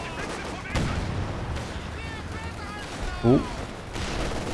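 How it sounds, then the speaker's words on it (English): Mortar barrage and strafing run in Company of Heroes 2, a 2v2 match: distant thuds and crackling fire bursts layered under a game soundtrack, with a sharp louder impact near the end and a brief voice exclaiming. "mortar cover coming in, as well as the strafing support"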